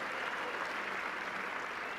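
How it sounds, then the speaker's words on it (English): Crowd applause at a mayoral swearing-in ceremony in Buffalo, a dense, even patter of many hands clapping at a constant level throughout, with no speech on top. "Yeah, you can clap to that"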